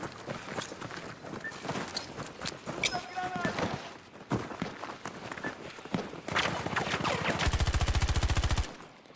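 Rapid gunfire in a PC tactical shooter match, with scattered single shots followed by a dense sustained automatic burst near the end, mixed with game ambience and players talking.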